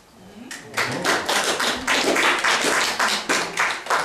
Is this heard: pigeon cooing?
no